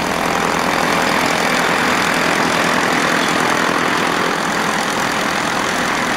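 Teledyne air-cooled piston engine on the Rutan Voyager aircraft running on a cold morning, a loud, constant droning roar with a dense steady texture and no speech.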